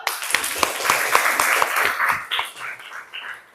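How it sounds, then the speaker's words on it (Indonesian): A short burst of group applause in a classroom, many hands clapping at once, fairly close, tapering off after a few seconds. "terima kasih, tepuk tangan dulu"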